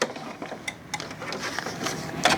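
A home sewing machine stitches fabric with a quiet, rapid ticking chatter that stays fairly soft and continuous throughout.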